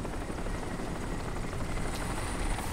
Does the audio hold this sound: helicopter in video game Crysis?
yes